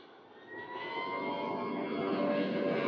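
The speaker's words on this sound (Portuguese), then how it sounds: "O avião chegando aí, vai descer aqui no... Bem baixo, né? Tá vindo baixo ele." An airplane flies low on its landing approach toward a runway in Rio de Janeiro, a steady broad jet roar that swells louder and holds as it passes close overhead.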